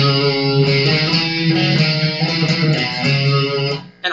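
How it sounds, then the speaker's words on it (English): Distorted electric guitar playing a riff with a hammer-on flourish, sustained chords struck in rhythm, loud and close, ending abruptly with a short final hit. "This time he's going to replace that with a hammer on."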